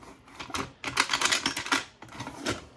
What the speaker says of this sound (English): let's get the old dice tower out now